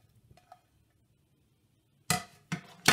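Chopped red plums tumble into a cooking pot for plum jam, landing in two or three loud, close bursts after a stretch of near silence.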